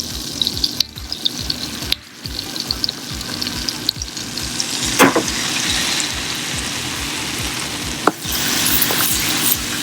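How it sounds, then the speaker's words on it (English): Butter and flour for a roux sizzle in a hot pan, a steady crackling hiss broken by the repeated scrape and clatter of stirring, close and fairly loud with no talking. "So I'm making my roux with butter, melted down. It's a little high. And then I'm going to add my flour."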